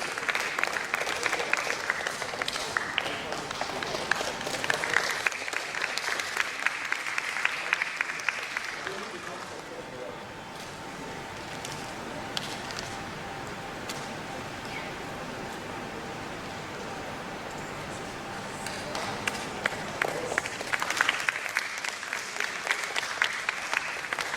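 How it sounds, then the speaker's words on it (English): An audience at a conference breaks into sustained applause, a dense wash of clapping that dips in the middle and swells again near the end. "Could we have a huge round of applause, please?"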